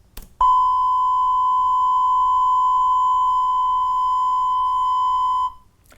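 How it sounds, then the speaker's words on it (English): A steady, loud electronic beep holds one pure tone for about five seconds, then cuts off into near silence. "So now let me show you the beep."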